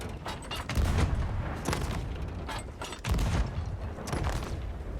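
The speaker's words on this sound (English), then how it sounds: "Firing blunder bombs up there." Blunderbombs fired at a tower in a pirate video game, a series of heavy booming blasts and thuds repeating irregularly over a rumbling background.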